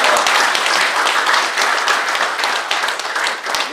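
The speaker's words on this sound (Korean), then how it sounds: "모두 우리 사무총장에게 박수 한번 드리겠습니다." A hall of retired generals at an annual general meeting applauds their secretary general, loud, dense clapping from a large crowd that stays full and even throughout, close and enveloping with no talking.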